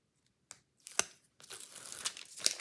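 Backing paper is peeled off a scrapbook album page: a few sharp tearing rips near the start, then a longer, steady crackling peel with crinkly paper noise, close and fairly quiet.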